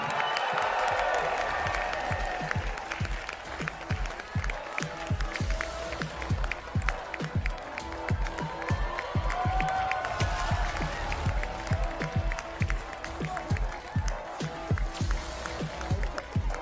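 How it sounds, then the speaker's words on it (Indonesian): A political party congress crowd clapping and cheering to welcome new PSI chairman Kaesang Pangarep, sustained applause with dense overlapping claps and a murmuring crowd, fairly loud and unbroken. "Kita sambut dengan tepuk tangan dong."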